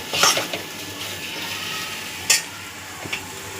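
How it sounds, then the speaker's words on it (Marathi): Ground spice masala with coriander and cumin powder roasting in oil for mutton curry, a steady close sizzle with sharp stirring scrapes of a spoon against the pan near the start and again at about two seconds. "हे सगळा मसाला मी तेल शिटेपर्यंत भाजून घेणार आहे चांगला"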